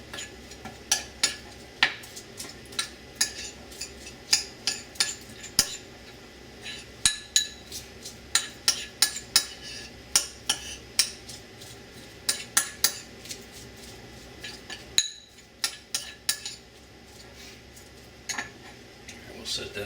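Kimchi ramen ingredients get mixed in a dish with half a teaspoon of sesame oil, a metal utensil clinking and scraping against the bowl in quick, irregular taps for most of the stretch, briefly pausing near the end.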